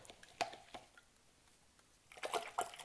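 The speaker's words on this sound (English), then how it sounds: "wash out your brush real well." Paintbrush being swished and rinsed in a water cup during acrylic painting, faint wet clicks and sloshes in a few bursts, quieter in the middle, with a livelier flurry of splashing near the end.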